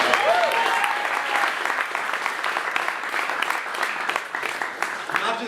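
Audience at a political debate on the 2016 election claps and cheers in a lively burst that starts strong and gradually thins out, with scattered voices and a brief whoop in the crowd.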